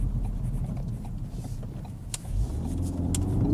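A Mk3 Ford Focus RS hot hatch in race mode, its engine droning low and then building in pitch as it accelerates, with a couple of sharp clicks partway through.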